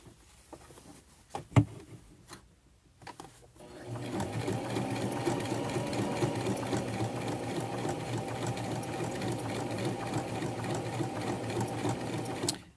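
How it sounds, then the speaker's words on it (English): A sewing machine stitches fabric for machine appliqué, running in a steady, continuous mechanical whir after a few quiet handling noises at the start. "you'll be able to move your fabric as it's sewing more instead of having to stop sewing"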